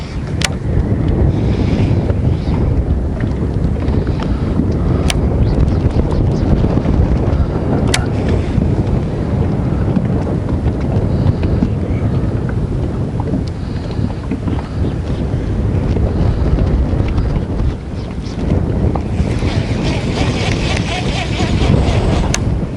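Strong wind buffets the microphone on a bass fishing boat on a lake in fall, a loud, continuous roar with water slapping beneath it for the whole stretch.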